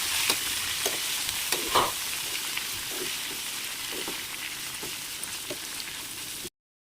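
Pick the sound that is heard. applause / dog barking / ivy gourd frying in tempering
ivy gourd frying in tempering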